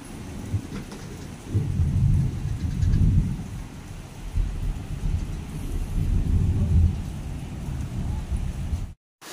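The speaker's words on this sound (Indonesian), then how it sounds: "hujannya gede banget disertai angin." Heavy rain with wind and rumbling thunder at a camping ground near a waterfall in Subang, a steady downpour swelling in loud surges before cutting off abruptly at the end.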